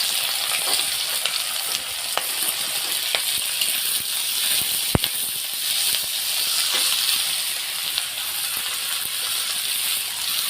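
Chopped ingredients frying in hot mustard oil for a restaurant-style tarka: a loud, continuous crackling sizzle with scattered pops and an occasional metallic tick, close by and without speech.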